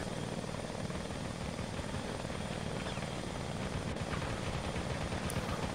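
A helicopter in the Men of War Assault Squad 2 video game, Cold War mod, fills the scene with a steady, loud, unbroken rotor and engine roar that stays constant throughout.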